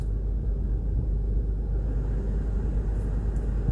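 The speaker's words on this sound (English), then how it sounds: "I'm gonna go ahead and turn up the air conditioning" Air conditioning blows inside a car as a steady low rumble and broadband whoosh, constant and fairly loud throughout with no talking.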